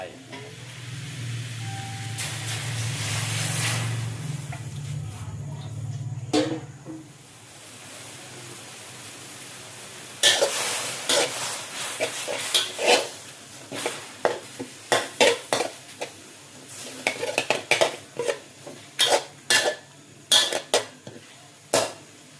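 Fish sizzles in a pan on a gas stove for a few seconds, then metal utensils clatter and scrape against the pan in irregular bursts, with someone talking at intervals.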